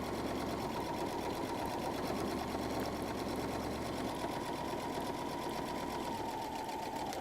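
A sewing machine runs steadily for several seconds, back stitching along a seam on a messenger bag, its motor whir close and even throughout with no voices.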